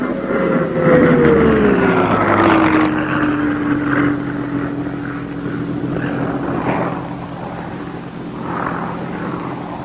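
A Bell P-39 Airacobra fighter's piston engine and propeller drone steadily in flight, loud and close, with a tone that slides downward early on and then holds a constant pitch.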